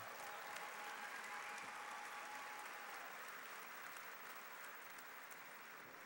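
Audience applause at an Operation Yellow Ribbon event honoring General Tommy Franks, a sustained, even roar of many hands clapping from a large crowd that continues unbroken and fairly distant.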